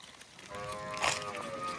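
A dairy cow on a cattle farm lets out one drawn-out moo of moderate loudness, rising and holding for about a second over a quiet barn background.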